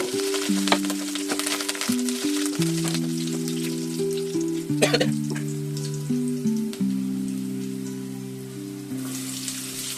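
Green chillies and curry leaves fry in hot oil for a drumstick-flower egg stir-fry, giving a steady, close sizzle with brief crackles that sits beneath prominent background music throughout.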